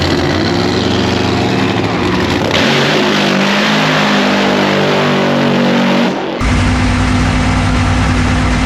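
A drag race car engine rumbles at a drag strip, a loud, close, throbbing drone that shifts in tone midway, dips briefly, then returns in a heavier, steady idle.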